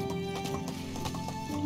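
Donkey hooves clip-clopping at a quick trot while riding in the video game Medieval Dynasty, a brisk, even rhythm over a humming game background.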